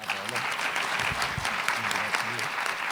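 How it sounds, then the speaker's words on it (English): Audience applause at a rare disease week conference session, a dense, sustained patter of many hands clapping together, steady and fairly loud, with faint voices mixed underneath. "Another round of applause for Barbara."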